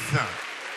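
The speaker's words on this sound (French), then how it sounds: "On applaudit bien, bien, bien fort Jamila, mesdames et messieurs, candidate numéro 6" A short burst of audience applause greets a numbered candidate at the Miss Guyane 2018 beauty pageant, broad clapping noise rising just after a host's voice cuts off.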